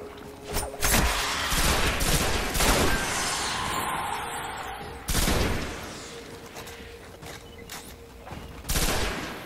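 Repeated gunshots from the Destiny first-person shooter, several sharp loud reports spaced a few seconds apart over a steady game background, with occasional voices.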